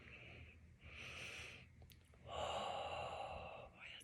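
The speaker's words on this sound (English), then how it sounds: "I'm just going to take a couple good deep breaths here." A person takes a couple of deep breaths while smelling an essential oil rubbed into the hands during a ritual, close and fairly loud: two long airy inhale-exhale swells, the second longer and stronger, with no talking.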